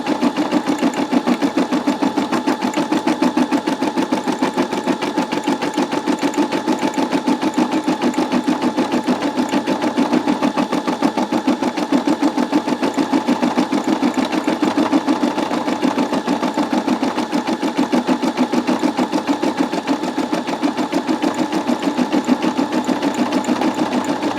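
A Brother SE625 embroidery machine stitches in a fast, steady mechanical rattle, loud and constant throughout with no voices.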